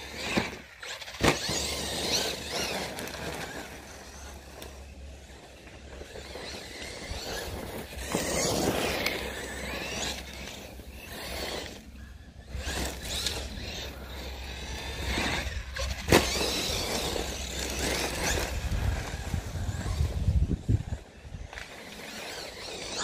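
A Team Associated DB8 Nomad RC buggy, limited edition, runs on a track, its electric motor whining and rising and falling as it accelerates and passes, fairly close, with someone talking in French at times.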